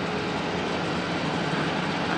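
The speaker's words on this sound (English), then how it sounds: "Look at this beautiful, colorful train." Steady, loud rumble of a train rolling by close, a continuous broadband roar with no talking.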